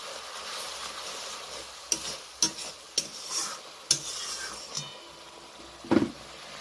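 Ground cumin, coriander, chilli, turmeric and Kashmiri red chilli powder sizzle steadily in a pan of onion, tomato, green chilli, ginger-garlic paste and a little water, with several sharp clinks and scrapes from a stirring spoon.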